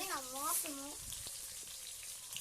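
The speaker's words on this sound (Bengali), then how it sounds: "এই যে দেখো আমার মাছ ভাজা প্রায় শেষের দিকে" Fish fries in oil that sizzles and crackles steadily in a pan, with a brief voice at the start over the frying.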